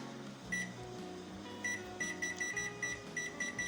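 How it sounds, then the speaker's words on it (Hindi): A microwave oven baking a chocolate cake runs with a low, steady hum while a series of short, high electronic beeps sound in quick succession as it starts. "ये हमारा ओवन स्टार्ट हो गया है"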